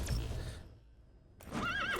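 A horse whinnies from D-Horse in Metal Gear Solid V: The Phantom Pain, a loud neigh opening the clip, then a quiet gap before a second rising, wavering whinny near the end.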